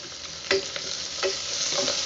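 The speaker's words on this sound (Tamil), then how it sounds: "இது நல்லா வந்து வெங்காயம் நல்லா வதங்கும்" Onions sautéing in a pan for a butter bean white kurma, with a steady close sizzle broken by three or four scraping strokes of a spoon stirring.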